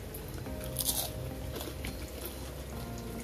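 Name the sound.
biting into crispy onion samosa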